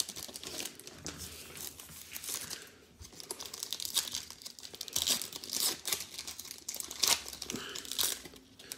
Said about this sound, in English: if you were talking about the plastic, I was unwrapping the top loaders